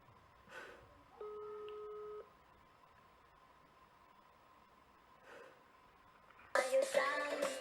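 A telephone ringback tone on a call, heard as a steady low tone with a short louder beep pattern, followed later by a burst of noisy handset sound.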